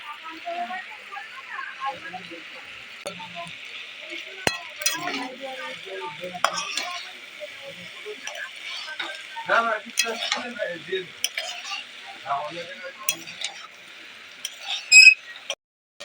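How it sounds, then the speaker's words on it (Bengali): Pasta being stirred into a frying pan over already fried ingredients during home cooking, with a steady sizzle and scraping and clinking of a utensil against the pan, close up, with a voice talking at times. "এর উপরে আমি এখন দিয়ে দেবো এই পাস্তাটা"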